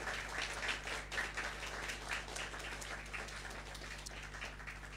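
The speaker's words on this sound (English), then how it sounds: "Big round of applause for everyone" Applause at the close of a community discussion event, a crowd clapping in a continuous, moderately loud patter with slight swells, over a low steady hum in the room.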